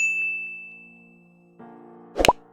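A notification bell sounds as a single bright ding that rings out and decays, then a short clang-like strike near the end, with no talk.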